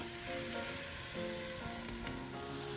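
Crab masala with tomato cooking in a pan in a Kerala-style kitchen, giving a steady close sizzle with faint stirring and scraping, continuous and without talk.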